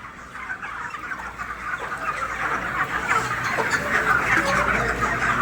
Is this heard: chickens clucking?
yes